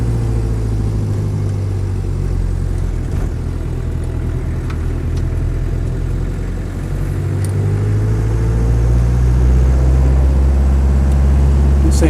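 A Land Rover 90 with a 2.5 diesel engine idles steadily nearby, a deep continuous rumble with slight swells in revs and no voices.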